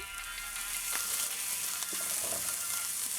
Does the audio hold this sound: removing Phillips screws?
no